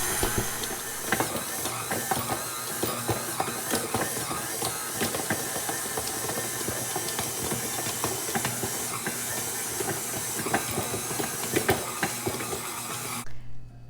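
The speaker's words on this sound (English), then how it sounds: "The mixer has formed a nice soft ball of dough that all came to the center." Stand mixer kneading pita bread dough, a continuous whirring, hissing motor drone with faint rhythmic clicks and thumps from the bowl that runs steadily and cuts off at the end.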